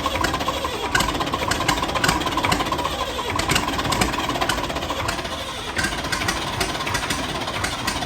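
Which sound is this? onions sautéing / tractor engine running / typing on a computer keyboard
tractor engine running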